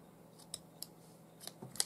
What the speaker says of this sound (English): Just use a pair of scissors.